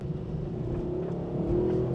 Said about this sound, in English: So we build up in speed here at Streets of Willow.